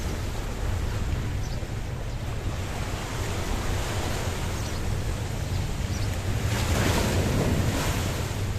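Choppy sea waves wash continuously along the promenade at Paphos, Cyprus, a loud, steady surf roar mixed with gusting wind noise on the microphone and a swelling surge near the end.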